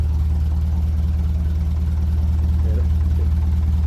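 A 1957 Ferguson 35 TVO tractor engine runs steadily while warming up, giving a continuous low, even drone at close range with no revving changes.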